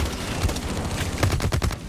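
A minigun in Blacklight Retribution fires continuously, a dense, loud, rapid rattle that holds steady through the whole short burst.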